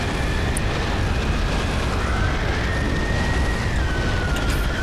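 Laurence's fire attack in Bloodborne roars as a steady, loud, dense rush of flame that keeps the same level throughout with no pauses.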